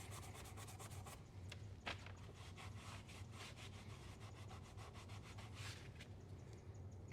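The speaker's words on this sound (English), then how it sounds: "I'll grab a file and we'll get over there and we'll start working on the face of this." A metal file rasps across the worn face of a leathercraft hammer in quick, even back-and-forth strokes, quiet and continuous with no talking.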